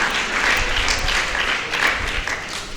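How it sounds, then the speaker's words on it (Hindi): Loud, dense applause from an audience at a weekly discussion gathering as prize winners are announced, steady clapping with slight swells, no voices over it. "एक बार जोरदार तालियां बजाएंगे।"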